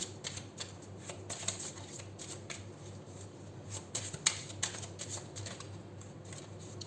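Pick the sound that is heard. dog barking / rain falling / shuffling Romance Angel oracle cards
shuffling Romance Angel oracle cards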